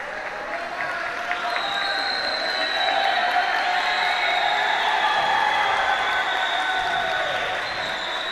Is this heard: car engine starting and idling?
no